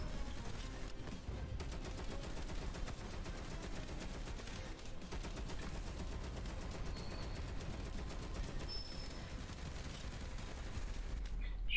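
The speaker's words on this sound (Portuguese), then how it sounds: "Ô louco, o negócio tá me fuzilando." Rapid, sustained gunfire from the shooter video game Evolution 2: Battle for Utopia, dense automatic bursts rattling continuously at steady loudness throughout, with no voice over it.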